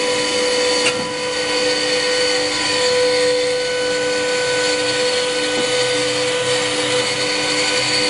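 Electric firewood processor with a 20-ton splitting force running its automatic splitting cycle, a loud steady mechanical whine and hum with tonal motor harmonics, continuous and close, with a faint knock near the start.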